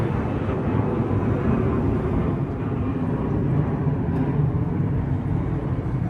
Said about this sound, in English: like the airplanes are just crazy loud.